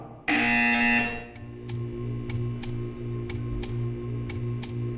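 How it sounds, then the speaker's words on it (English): A loud harsh buzzer blares for about a second in Portal 2, then steady electronic ticks repeat at an even pace over a low hum. "When you hear the buzzer, stare at the art."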